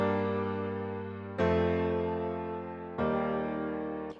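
Three sustained piano chords in plain root position, each struck and left to fade slowly, play alone with no voices.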